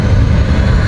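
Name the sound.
jet flying away in PowerWash Simulator video game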